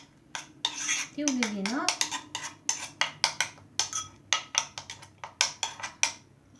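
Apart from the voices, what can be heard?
stirring and mixing a homemade face mask mixture in a bowl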